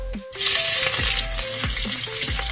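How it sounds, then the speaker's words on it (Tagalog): Onions hit a very hot wok with a sudden loud sizzle that holds as a steady bright hiss, with a few soft scraping stirs and knocks underneath. "sa isang napakainit na wok, unahin na natin igisa ang sibuyas"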